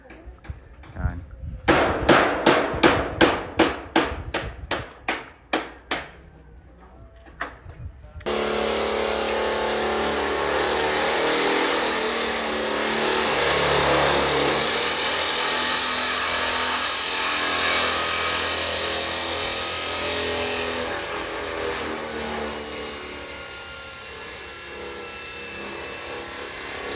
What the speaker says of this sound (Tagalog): Tignan nyo naman kung gaano kahirap nila i-drill yung isang tornilyo lang kay Ilocano.